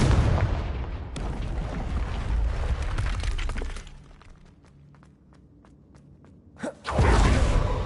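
Explosive spell blasts from Hogwarts Legacy land as loud bursts with crackling debris, a busy stretch of impacts followed by a quieter lull with scattered clicks, then another heavy boom near the end.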